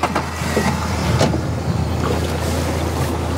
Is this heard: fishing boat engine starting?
yes